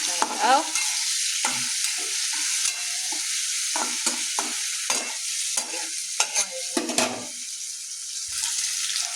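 Soybeans roasting and being stirred in a pan: a continuous hiss with repeated scraping and rattling strokes at irregular intervals, fairly close and loud; no talking.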